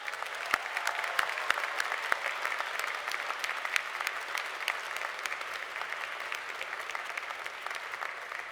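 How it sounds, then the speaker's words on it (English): An audience at a 2019 undergraduate commencement ceremony applauds graduates' parents and families, sustained, even clapping from a large crowd heard from a distance, with no break. "Please join me in a round of applause for these very important people"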